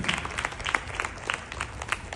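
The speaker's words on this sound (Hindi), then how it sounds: "हम सब मिलकर जोरदार तालियों से उनका उत्साह वर्धन करें" Audience at a Rotary dining etiquette workshop applauding, with moderate, somewhat distant clapping and scattered sharper claps throughout.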